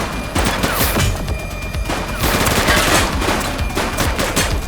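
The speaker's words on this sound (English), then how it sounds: "Shots fired!" Heavy automatic gunfire in the police video game The Precinct, with dense overlapping bursts and loud rapid shots filling the clip without pause.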